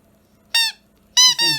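Two sharp, high squeaks from a rubber toy, one short and then a longer double squeeze, loud and close against a quiet background.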